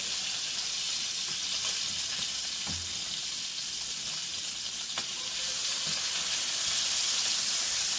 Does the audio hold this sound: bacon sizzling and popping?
yes